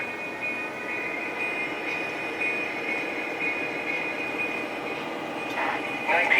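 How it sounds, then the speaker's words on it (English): A train running on three engines rolls out along the line, a steady, loud rumbling drone with a sustained high whine throughout and no break. "Train's rolling out."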